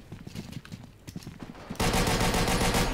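Rapid MG42 machine gun fire from the Forgotten Hope 2 World War Two game erupts abruptly after scattered distant shots, becoming a loud, dense continuous burst that fills the second half.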